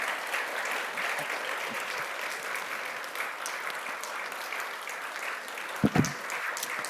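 Sustained applause from a church congregation at Sunday worship fills the room at an even level, with a couple of heavier low thumps near the end as the clapping continues.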